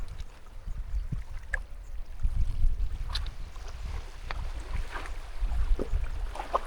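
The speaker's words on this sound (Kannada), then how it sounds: "ನೋಡ್ರಿ ನೀರಿನ ಅಲೆಗಳು ಹೆಂಗೆ ಬರ್ತಾವ" River waves wash steadily beside a forest campsite, a continuous low rushing churn mixed with wind buffeting the microphone, with no voices.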